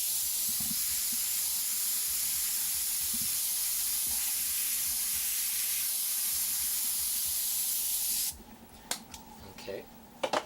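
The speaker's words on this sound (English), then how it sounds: "I'm going to take black and we're just going to go and just put this fuzzy little spray back and forth" An airbrush sprays black paint in a steady, close, continuous hiss that runs for about eight seconds, then cuts off, leaving a quieter stretch with a few faint clicks and bumps.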